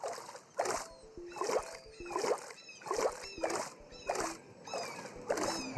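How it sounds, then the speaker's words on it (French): Game sound effects aboard a pirate ship: a repeating pattern of creaks and watery splashes about every 0.8 seconds, like oars or a hull rocking on waves, steady and close with no talk. "J'aime bien les petits bruitages qu'il y avait avec dans le bateau, franchement, les bruits de bateau et tout"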